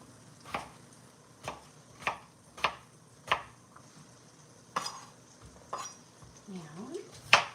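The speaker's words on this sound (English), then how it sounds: "I'm kind of cutting each potato into thirds and then slicing it down." A knife cuts potatoes into thirds and slices them on a cutting board, about a dozen crisp, evenly spaced chops up close, each a sharp tap against the board, with a quiet pause midway and faint stray clatter near the end.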